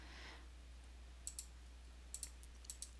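A computer mouse clicks as a cell is chosen in an Excel spreadsheet, giving three quick pairs of sharp, faint, close clicks over a quiet low hum.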